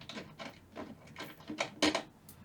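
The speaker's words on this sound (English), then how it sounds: "let's go ahead and take the screws off" Screws are backed out of the cabinet of a 1955 Magnatone 108 tube guitar amp with a screwdriver, making a series of close, dry, creaky turning squeaks in irregular bursts with short pauses between them.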